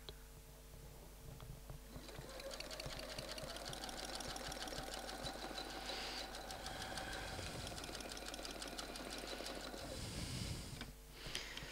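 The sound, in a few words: domestic sewing machine quilting a feather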